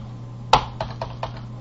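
Code is typed on a computer keyboard as a few quick, close key taps, one sharp press followed by several lighter clicks over a steady background hum.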